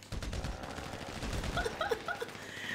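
Guns fire in GTA Online as a fast, dense burst of shots, moderately loud and continuous, with a few sharper metallic clinks near the end.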